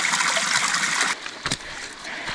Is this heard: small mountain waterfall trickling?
yes